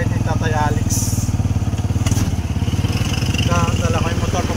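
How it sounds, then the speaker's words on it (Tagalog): Motorcycle engine running during a ride, a loud close pulsing drone with a rapid, regular firing rhythm that continues throughout, with occasional knocks and clatter. "Dala ko yung motor papuntang Baliwan."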